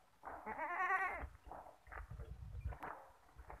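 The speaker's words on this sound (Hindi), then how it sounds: "आ काला ब्रीडर बकरा फॉर सेल है जी।" A tall black Beetal breeder goat in Punjab gives a loud, close bleat, followed by softer shuffling, movement and faint farmyard noise.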